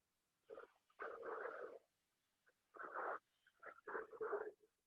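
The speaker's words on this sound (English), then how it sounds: "Take 2 Shitali breaths. Deeply inhale through your nose. Deeply exhale through your tongue." Someone performs Shitali yoga breathing, with several breathy exhalations through a curled tongue, each a soft airy hiss lasting about a second, separated by quiet gaps.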